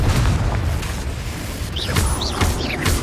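Confringo fire spell explosions in Hogwarts Legacy, loud booming blasts with a low rumbling roar and a few sharp bursts and whooshes over a dense, continuous din.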